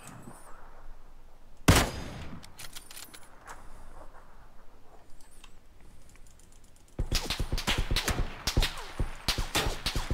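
Gunfire in the battle royale game PUBG: a sharp loud shot burst early, scattered lighter shots, then a dense rapid run of automatic fire in the final seconds.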